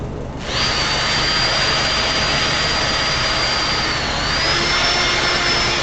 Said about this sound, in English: I'm going to do a quick sand on this CA